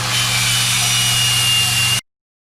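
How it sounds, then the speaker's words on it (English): A drill fitted with a wire cup brush grinds rough spots on a Char Griller Super Pro charcoal grill, a loud, steady whirring abrasion that runs for about two seconds, then cuts off abruptly. "So I'm just going to get out here and just grind off some of the tougher rough spots."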